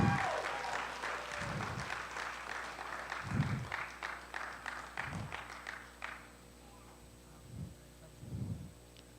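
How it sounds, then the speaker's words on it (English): Applause for graduating seniors at a 2021 ASD commencement, steady clapping from a crowd over several seconds, dying out partway through, with dull low thumps recurring underneath. "Give them a round of applause."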